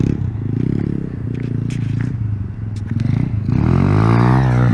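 A motorcycle on a road trip races past with a loud, close engine drone that rises into a harder, higher rev toward the end.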